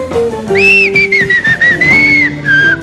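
Someone whistles a bright, wavering rendition of Yankee Doodle close by on a game show, held notes sliding up and down over a few seconds, with a faint tone underneath.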